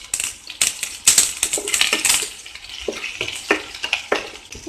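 Curry leaves hit hot oil along with garlic and chopped green chillies for a Tamil jackfruit poriyal, giving a close, continuous crackling sizzle with sharp pops and bursts throughout, no talking.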